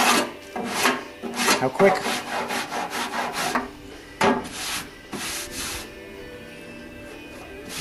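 Hand strokes rough down cured plastic dent filler on a Fiat Spider body, a series of uneven scraping rasps close by, with a brief spoken remark among them.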